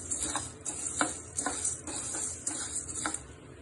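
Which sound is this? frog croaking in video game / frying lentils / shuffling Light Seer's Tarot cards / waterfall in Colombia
frying lentils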